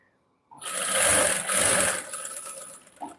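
Sewing machine stitching a designer blouse starts up after a short silence and runs steadily for about two and a half seconds, a loud close whirring hum that slows and winds down at the end, with no talk.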